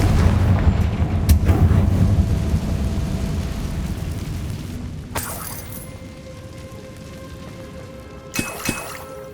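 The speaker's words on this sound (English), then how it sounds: "Confringo." A Confringo fire-blast spell in Hogwarts Legacy erupts as a loud, rumbling burst that fades gradually, followed by a couple of sharp crackling impacts near the end.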